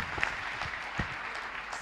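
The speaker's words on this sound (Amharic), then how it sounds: "አጨብጭቡልኝ አንድ ጊዜ።" Applause from a church congregation, steady hand clapping from a crowd filling the whole stretch, moderately loud, with a few sharper claps and voices underneath.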